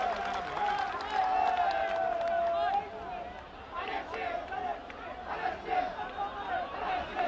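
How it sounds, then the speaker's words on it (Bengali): Crowd at a BNP political rally in Tangail welcoming Tarique Rahman, a loud wash of applause and cheering with babble for a few seconds, then settling into ongoing murmuring chatter with bursts of clapping. "সেই কারণে আমরা করতালি দিয়ে তাকে অভিনন্দন জানাবো।"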